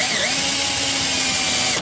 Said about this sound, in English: yes, these are for metal drill bits, for cutting metal as well, but they're crap